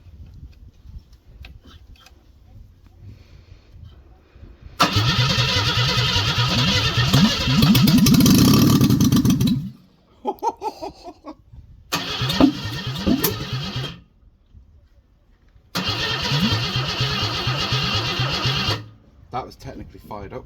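A Ford Cortina Mk4 Ghia 2.3 V6 cranks in several loud bursts and briefly catches, with pauses between attempts and people talking in between.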